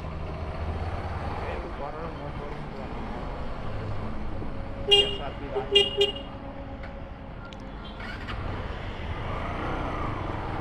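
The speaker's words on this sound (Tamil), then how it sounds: "நான் ஹார்ன் கொடுத்துட்டு தானே வர்றேன்" A few short motorbike horn toots sound amid road and engine noise, loud and close, the beeps coming in a brief cluster midway.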